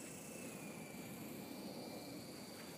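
A Blade 120 SR remote-control helicopter flies with a faint, steady whirring drone and a thin high whine that holds without a break.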